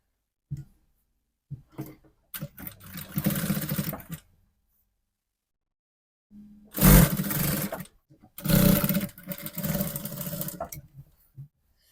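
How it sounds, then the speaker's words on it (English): Sewing machine stitching a kimono jacket seam, in several separate bursts of fast mechanical whirring of varying length with quiet gaps between, fairly close and alone. "you also stitch all the way down"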